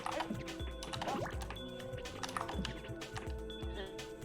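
Water in the puzzle video game Stuffo the Puzzle Bot: soft liquid drips and sloshing splashes in an uneven patter over background game music, fairly quiet and close.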